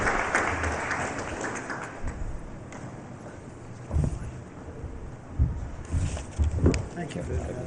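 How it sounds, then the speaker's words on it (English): An audience applauds as a guest takes the stage at an awards ceremony, a rough, rumbling wash of clapping with heavy low-end boom and gusty noise that surges in the final seconds. "Round of applause, ladies and gentlemen"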